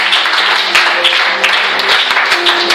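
A church congregation applauding, dense and loud continuous clapping from many hands filling the room, with faint voices mixed in.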